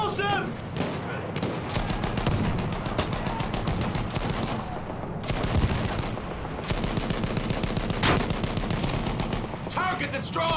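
Battlefield 1 combat with steady machine-gun fire and overlapping rifle shots, heavy and continuous, alongside distant artillery rumble, with voices talking over the battle.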